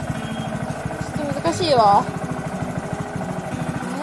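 A manual-transmission motorcycle idles with a steady pulsing chug during half-clutch practice, briefly rising in a short rev before settling back, while someone talks over it.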